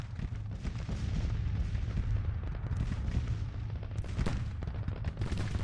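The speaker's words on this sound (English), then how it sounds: "A lot of gunfire happening." Continuous battlefield din of artillery booms and rolling musket gunfire in a Civil War strategy game, a dense low rumble with sharper cracks throughout, steady and loud.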